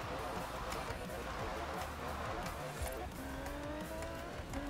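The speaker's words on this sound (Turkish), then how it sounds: "Altımızda çok hızlı araba var" A fast car driven hard in the Forza Horizon 4 video game: loud engine revving with shifting pitch and bursts of tire squeal, with a voice talking over it.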